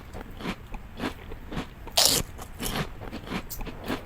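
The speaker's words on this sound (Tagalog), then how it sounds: "Madali lang nguyain yung buton nito mga ka-vibes dahil malambot lang" Soft bones being chewed and bitten up close, giving a run of moist crunches and crackles at an irregular pace, with one sharper, louder crunch partway through.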